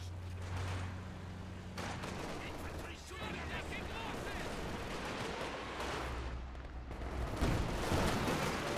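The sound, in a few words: artillery barrage in a video game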